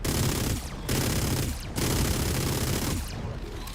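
Rapid bursts of gunfire from target shooting in the video game Warframe, three sustained loud volleys separated by brief pauses, with no talking.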